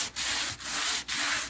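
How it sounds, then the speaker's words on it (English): Hand-sanding a wooden nightstand, a loud, close rasping rub in long strokes with brief pauses between each pass. "Man, I was not planning on sanding."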